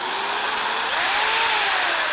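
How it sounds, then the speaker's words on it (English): Electric drill of roughly 1,000 RPM fitted with a stock wheel, spinning steadily with a loud, continuous high whine that rises slightly in pitch partway through, heard alone. "we're gonna spin this drill"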